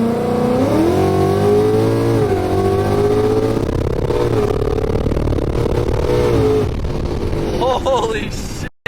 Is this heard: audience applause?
no